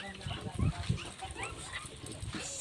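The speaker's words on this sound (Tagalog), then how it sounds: "Ito naman mga tuta." Puppies at a rural home in the Philippines give soft whimpers and small yips close by, a few low grunting bursts over quiet background murmur.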